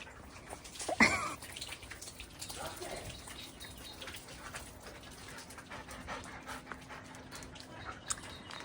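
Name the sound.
muddy puppies panting in a garden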